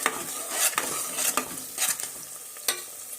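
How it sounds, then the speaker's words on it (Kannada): Onions for egg biryani fry in a pan, a steady close sizzle broken by scraping stirs and clinks of a spoon against the metal, with no voices. "ಇದು ಹಾಕಿ ಹಿಂಗೂ ಫ್ರೈ ಮಾಡ್ಬೇಕು ನೋಡ್ರಿ"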